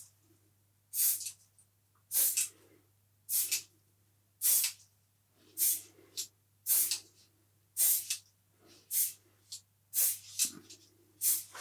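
Short bursts of spray fixer from an aerosol can dusting a model railway flowerbed, about ten separate hissing squirts in an irregular rhythm, close and clear with quiet gaps between.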